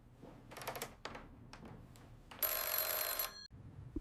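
An alarm rings in a loud, bright burst of about a second, after several shorter ringing pulses, all alone with no talk.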